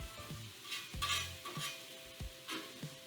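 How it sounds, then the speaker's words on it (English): Food sautes for a Philly cheesesteak made with Impossible meat, a soft sizzle broken by several spoon scrapes and stirring clatters in the pan, close and fairly quiet, with no talking. "Get them sauteing."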